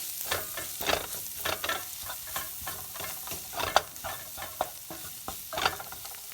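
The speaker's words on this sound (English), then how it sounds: "And I'm going to stir that in." Flour is stirred into a sizzling shepherd's pie filling in a pan, a continuous frying hiss broken by repeated spoon scrapes and clicks at an uneven rhythm, close and moderately quiet with no talking.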